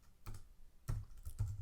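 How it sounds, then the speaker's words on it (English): A git clone command is typed on a computer keyboard, producing a few quiet, distinct key clicks in short irregular bursts, close and alone. "you'll type in git clone"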